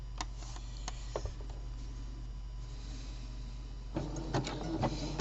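A sewing machine stitches a decorative honeycomb stitch on sportswear fabric, 7 mm wide and 2.5 mm long, a quiet steady mechanical hum with soft ticking clicks that grow busier toward the end.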